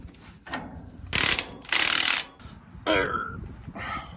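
A ratchet wrench torquing U-bolts on a trailer axle, with several close, loud bursts of rapid clicking separated by brief pauses.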